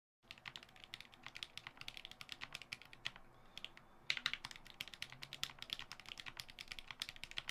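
A keyboard fitted with Glorious Lynx switches typed on steadily during a quick typing test, a dense run of soft, close key clicks with no voices.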